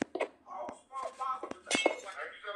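Thin glass panes break in a city-building video game, giving repeated sharp clinks and brittle shattering hits in quick succession while someone talks over them.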